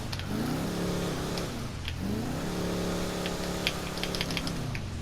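Albany Lurcher engine in GTA Online revving twice, each rev rising and falling in a steady moderate roar, with faint clicking typing-like sounds on top and no voices.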